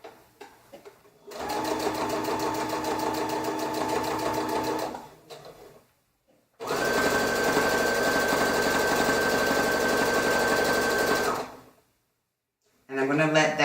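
A sewing machine stitches a shirt seam for a side sash, tapering toward a point. It runs in two steady, close bursts of about four and five seconds, separated by a short pause, with another run starting at the end.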